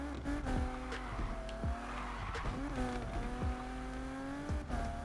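A car drifting in the racing video game NFS Unbound, with sustained tire squeal sliding up and down in pitch over a droning engine, loud and continuous with several sweeping skids.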